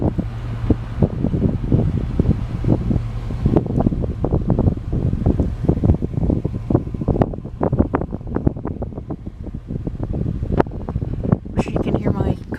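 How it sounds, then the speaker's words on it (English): Strong wind on a chilly November day in rural Pennsylvania, buffeting the microphone in continuous gusty rumbles and thumps throughout. "You hear the wind?"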